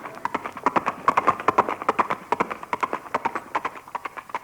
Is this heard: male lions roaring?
no